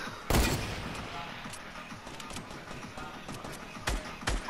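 Gunfire in a shooter video game with rifles, several sharp shots standing out over a busy, noisy background, one loud crack near the start and more toward the end, with faint talk underneath.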